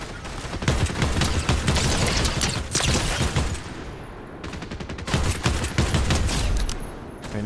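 Gunfire in the Fortnite video game: sustained rapid bursts of shots, loud and dense, with a brief lull before another volley.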